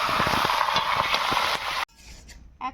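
Vegetables for Bengali khichuri tipped into hot tempered spice oil on a winter afternoon, a loud steady sizzle with stirring scrapes that cuts off abruptly, followed by quieter kitchen clatter.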